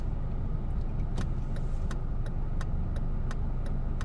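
A manual transmission car creeps forward slowly at a stop sign, heard from inside with a low, steady engine rumble. A regular series of faint ticks, like a turn signal, sits above it.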